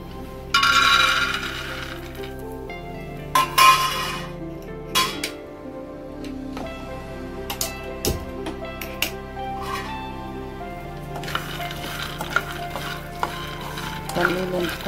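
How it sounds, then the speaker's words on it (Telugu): Peanuts frying in a pan after dried red chillies, stirred with a utensil that scrapes and clinks against the metal, over a soft sizzle with bursts of louder rattling. "పల్లీలు వేగిన తర్వాత ఇలా వచ్చేంత వరకు పల్లీలు వేయించుకోవాలి."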